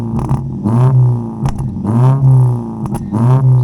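A Ford Figo engine fitted with a new muffler is revved toward 3,000 rpm in a few loud, close bursts that rise and fall with a deep exhaust note, with no talking.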